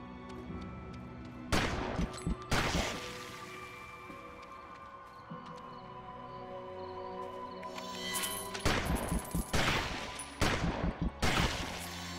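Gunfire in the action game Victor Vran: bursts of rapid shots crack out in clusters against a busy layer of game music and effects, with several loud volleys near the start and a denser run toward the end.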